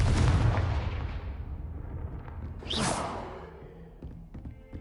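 A Confringo blasting spell cast in Hogwarts Legacy: a heavy booming blast that rumbles and fades, followed by a second whooshing burst midway, with the rumble decaying toward the end.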